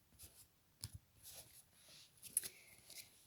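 A deck of cards being cut by hand during a tarot-style reading, a few soft quiet shuffling and slapping sounds in short bursts with pauses between them.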